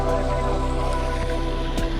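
Water trickles and splashes steadily in a small garden waterfall, a close continuous wet patter under a low steady hum.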